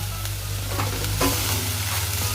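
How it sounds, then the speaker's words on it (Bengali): Onion frying in a pan with green chilli and salt, a brief burst of sizzling with a couple of quick stirring scrapes over a low steady hum, no speech. "আর পেঁয়াজটা দিয়ে দিলাম। এটা এখন আমি একটু ভেজে নেব"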